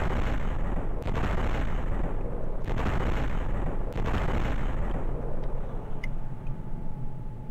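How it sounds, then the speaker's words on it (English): Anti-tank rocket fire and explosions in a video game: loud, continuous booming rumble with three sharp blasts in the first four seconds, then a thinner tail with a faint high tone. "An anti-tank rocket fires at one rocket at a time"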